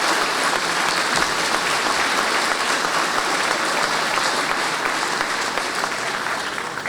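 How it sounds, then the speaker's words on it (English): Loud, sustained applause from a hall of fame ceremony audience at a Michigan Jewish sports event, dense steady clapping that fades slightly toward the end. "I just think she deserves our applause"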